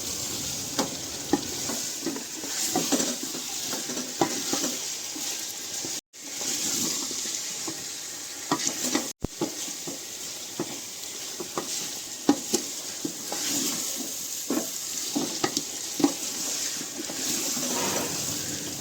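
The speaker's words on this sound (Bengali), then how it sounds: "নাড়ি চাড়িয়ে ভাজা ভাজা করে নেব" Chicken sizzles steadily in a hot pan while a utensil scrapes and stirs repeatedly, with two brief dropouts.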